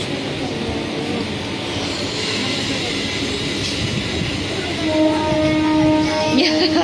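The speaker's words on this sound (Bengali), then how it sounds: "দেখো ট্রেন চলে যাচ্ছে" A train rumbles steadily nearby, its noise swelling toward the end with high wheel squeals; faint voices murmur underneath.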